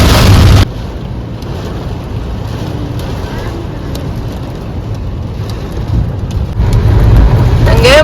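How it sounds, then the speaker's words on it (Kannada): Heavy rain pours down in a loud, steady roar that continues for the whole stretch, swelling slightly toward the end, with people talking over it. "ಎಷ್ಟು ಜೋರ್ ಮಳೆ."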